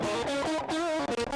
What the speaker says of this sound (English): what you're hearing there is my raw guitar going through overdrive pedals into my sound card